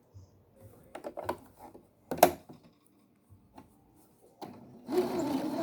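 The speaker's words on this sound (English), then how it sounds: "I'm going to stitch just a couple stitches on the diagonal" A sewing machine makes a few diagonal stitches on a pocket bag in one short, close burst near the end, after some light clicks and handling sounds.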